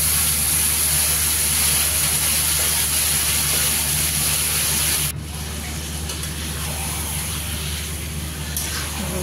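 Marinated chicken poured into hot oil seasoned with bay leaf and a little cumin sizzles loudly and steadily throughout, a dense close frying hiss that drops slightly in level midway.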